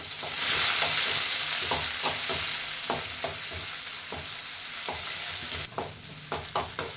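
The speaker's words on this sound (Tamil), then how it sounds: "அதில் பாதி வெங்காயம் போட்டிருக்கேன்." Onions fry in a pan for banana flower kootu, with a loud, steady sizzle and a spoon stirring and scraping through it in regular strokes.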